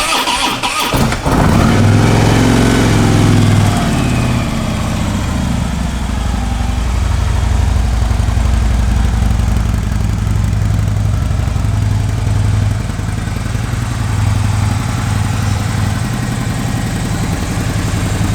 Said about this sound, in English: Nice sounding bike. That is the stock exhaust.